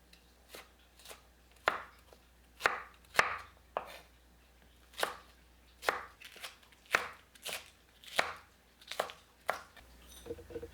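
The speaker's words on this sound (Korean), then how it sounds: "당근을 얇게 채 썰어주세요. 파는 5cm 길이로 자르고 채 썰어주세요." A knife julienning carrots and green onions on a cutting board gives crisp, close chops in a fairly steady rhythm, each stroke distinct with brief gaps between.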